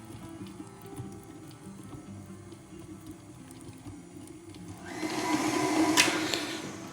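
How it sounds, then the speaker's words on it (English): Butter beaten until creamy with an electric mixer, a low steady whirring motor that rises into a louder, brighter churning whir near the end. "We need to beat this butter until it turns very creamy."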